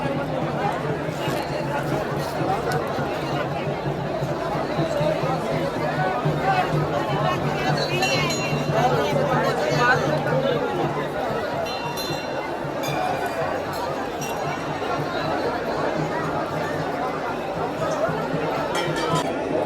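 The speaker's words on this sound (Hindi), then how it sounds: "दर्शक बंधु आप देख लीजिए कते भीड़ चले" Dense crowd of pilgrims at the Baba Baidyanath temple in Deoghar: steady, loud babble of many voices with scattered clinks and shuffling, close and continuous throughout, with someone talking over it.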